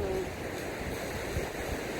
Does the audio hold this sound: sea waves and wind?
yes